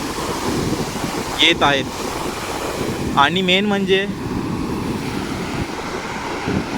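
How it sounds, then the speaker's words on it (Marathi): Big high-tide waves roll in at Arnala beach, a steady roar of surf mixed with gusty wind noise, while someone talks over it. "समुद्राला भरती आलेली आहे. तुम्ही पाहू शकता की किती मोठ्या मोठ्या लाटा"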